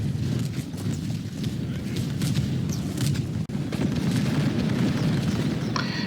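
Musketeers volley in a pike and shot battle of a Medieval II: Total War mod, heard as a continuous, dense rumble of distant gunfire and battlefield din with scattered pops and one brief dropout, without any talk.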